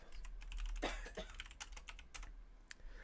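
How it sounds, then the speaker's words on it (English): Keyboard typing heard while playing Mass Effect 3, a quick run of close key clacks with a throaty cough-like sound mixed in over the first second. "Wait, Cowie, do you hear that typing?"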